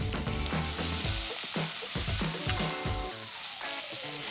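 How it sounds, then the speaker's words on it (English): Onions sizzle loudly as they hit hot pork fat and oil in a pan at home, a steady crackling fry with a few thumps of stirring near the start, continuous and close with no talk. "I'm going to throw my onions straight in."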